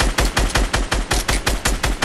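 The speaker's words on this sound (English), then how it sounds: "This time, I'll just use like my shotgun and SMG." Rapid bursts of gunfire from shotgun and SMG in the video game Fortnite, close and loud, firing in a steady, evenly spaced rhythm of about ten shots over two seconds.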